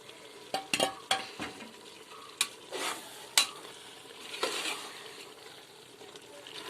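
A spoon stirs meat gravy in a pressure cooker, giving a few sharp metallic scrapes and knocks early on, then softer scattered stirs over a faint quiet sizzle.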